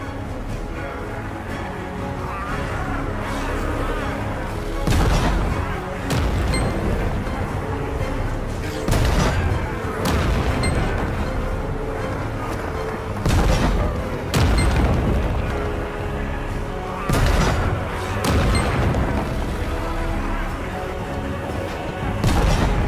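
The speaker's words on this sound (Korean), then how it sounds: "대포를 사용해 성벽을 방어하라." Heavy cannon blasts boom repeatedly as cannons defend castle walls against attacking demons in the video game Lost Ark, irregular loud explosions over a constant battle din and game music.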